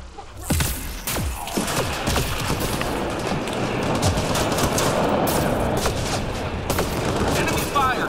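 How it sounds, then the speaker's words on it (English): Enemy gunfire in Mass Effect: Andromeda on insanity difficulty, sustained close rattling fire with sharp louder shots and booms scattered throughout, dense and continuous, with a voice speaking over the combat. "Enemy fire, careful."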